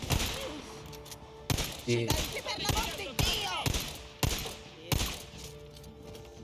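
Gunfire from basic weapons in the video game Days Gone, a series of sharp, loud shots spaced irregularly with brief bursts and echoing tails, while a voice speaks briefly between them.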